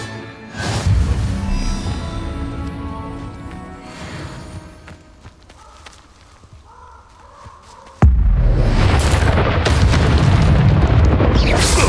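A Confringo blasting spell explodes in Hogwarts Legacy, hitting as a sudden loud boom that cuts in after a quieter stretch of game sound and leaves a dense, roaring blast that holds steady to the end.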